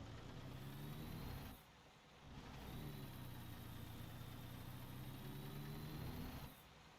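A truck engine in American Truck Simulator idles with a steady, loud mechanical hum, dipping briefly twice and then revving back up as the rig maneuvers.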